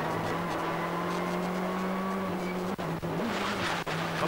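Rallycross car at Lydden downshifting through the gears on track, heard onboard: a steady engine drone with sharp dips and blips as each gear change cuts in, moderately loud and continuous.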